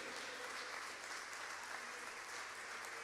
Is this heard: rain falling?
no